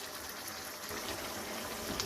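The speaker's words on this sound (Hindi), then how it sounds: "ये देखिए चिकन बन रहा है।" Chicken jalfrezi do pyaza with yogurt and tomato slowly frying in a pot, giving a steady, dense sizzle and bubbling hiss that continues evenly throughout.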